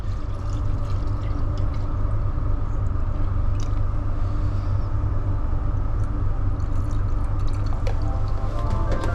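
Mixed candy paint poured through a filter while restoring HK GTS Monaro badges, a steady close trickle and drip of liquid that continues throughout.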